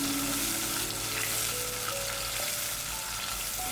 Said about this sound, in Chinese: 加入一些清水，继续翻炒到汤汁收浓